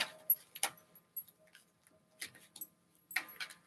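Oracle cards from a Cosmic Reading deck are shuffled in three short, crisp bursts of papery riffling and clicking, separated by near silence.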